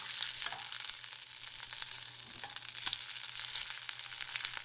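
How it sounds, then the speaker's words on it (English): Flipped cube steak sizzles in a frying pan with a steady, close hiss and crackle, dotted with small pops, continuous and fairly quiet throughout. "And so I'm going to go ahead and flip it and get this other side going."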